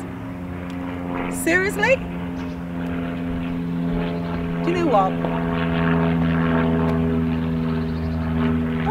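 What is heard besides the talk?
propeller airplanes flying overhead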